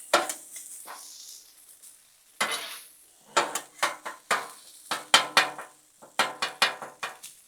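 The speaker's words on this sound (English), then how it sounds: "let's mix it all together. Get that rice good and hot." Rice and hamburger meat sizzle on a Blackstone griddle while a metal spatula scrapes and clacks against the steel in a quick run of sharp, close strikes, with a softer hiss in the pauses.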